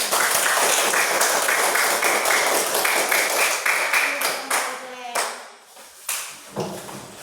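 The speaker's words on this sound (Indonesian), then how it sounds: "Tepuk tangan untuk Glenn" Children clap their hands in a classroom, a dense burst of applause that thins into scattered claps and fades, with some voices mixed in.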